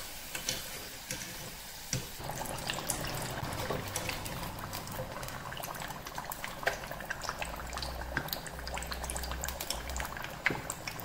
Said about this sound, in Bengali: তো ভাজবো যতক্ষণ না পর্যন্ত এটা গোল্ডেন ব্রাউন হয়ে যাচ্ছে ততক্ষণ পর্যন্ত